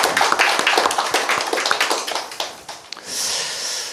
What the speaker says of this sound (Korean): 우리 서로를 향해서 박수를 한번 할까요?